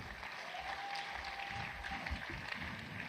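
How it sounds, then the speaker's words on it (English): A tech fair audience claps steadily and densely for the full stretch, a continuous mid-level wash of hands with no voices standing out. "once again, round of applause to Demola Sanusi"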